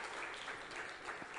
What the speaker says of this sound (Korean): 우리 박수로 축복하시겠습니다.